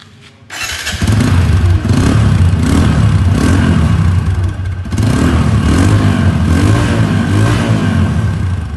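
A 2022 Apache RTR 160 motorcycle engine starts after a brief crank, then idles loudly and close, with two rising revs before settling back.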